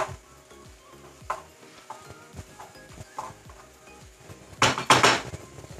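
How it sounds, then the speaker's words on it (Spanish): Onion cooking in a pan for Colombian carimañolas, with a soft sizzle under repeated sharp clinks and taps of a utensil against the pan and a louder burst of scraping near the end. "Vamos a esperar que la cebolla aquí se cocine un poco."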